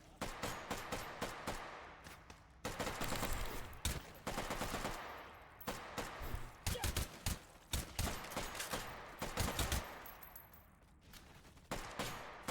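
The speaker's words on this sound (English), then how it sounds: "You have to be really careful with that very fast fire rate on the FAMAS." Rapid automatic fire from a FAMAS rifle in a first-person shooter video game, coming in loud, dense bursts with short gaps between them, mixed with other in-game effects.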